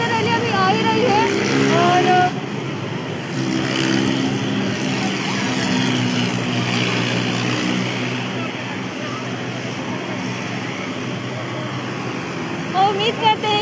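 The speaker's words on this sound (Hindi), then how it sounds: "और ये देखिए ट्रैक्टर रैली अभी आ ही रही है।" Tractors rolling past in a farmers' tractor rally near Chandigarh police, a steady loud engine rumble throughout, with someone talking over it.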